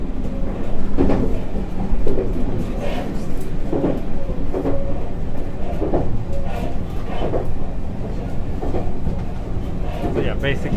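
The Resort Shirakami train in Japan runs along the rails with a steady rumble and recurring clicks and clunks from the wheels, heard from inside a carriage with a panoramic window.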